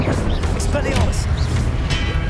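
An Expelliarmus disarming spell cast during Hogwarts Legacy combat: booming, cracking impacts and swishing magical effects over a thick, loud battle mix.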